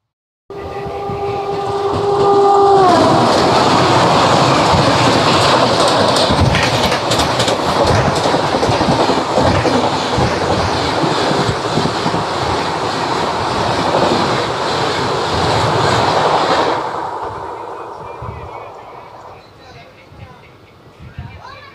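Santragachi SF Express rolling along the rails on the run toward Chennai, a loud, steady rumble and rattle of coaches with clattering wheels that fades near the end; a brief horn-like tone sounds at the start.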